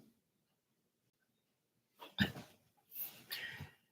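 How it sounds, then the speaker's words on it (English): A dog snorts and snuffles close by in a quiet room, two rough breathy bursts following a long silence. "This damn dog snoring like a motherfucker."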